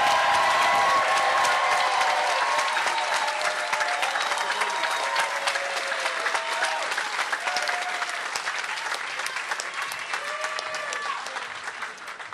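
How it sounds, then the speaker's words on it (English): Crowd applause fills a primary election victory speech in New York City, loud sustained clapping with scattered cheers running continuously and fading slightly toward the end. "give everyone standing here a round of applause"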